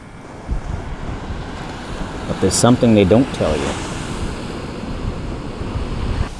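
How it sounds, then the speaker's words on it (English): Ocean waves rolling in on the Pacific coast of Guanacaste, Costa Rica, a steady broad wash of surf and wind noise running throughout beneath someone speaking briefly in the middle. "the sound of the waves rolling in"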